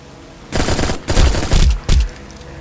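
Gunfire aimed at target-practice holograms in the video game Echo Point Nova: loud, close bursts of rapid automatic fire in three or four volleys with short gaps between them, with no talking.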